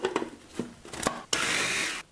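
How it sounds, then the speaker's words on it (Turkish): A few short clattering bursts, then a loud blender whirs steadily for under a second shredding edible paper before cutting off. "Şimdi onları öncelikle blenderdan geçirip ufalayacağım."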